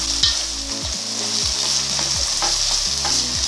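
Steady sizzling of garlic frying in a hot pan, with a spatula scraping and stirring throughout, no voices.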